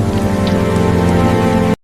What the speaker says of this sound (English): Rain hammered the Vaughn mansion like judgment itself